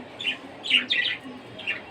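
Pet birds give short, bright chirps close by, four quick bursts spaced unevenly over a quiet background, with no one speaking.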